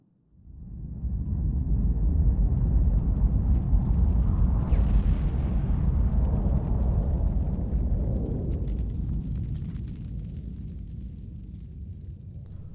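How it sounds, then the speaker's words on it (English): An NX-01 nuclear bomb detonates at its maximum 25-kiloton yield in the Arma 3 game, a huge deep boom that swells quickly into a long, heavy rumble and slowly fades, with no voices. "That was the NX-01 on max yield of 25 kilotons."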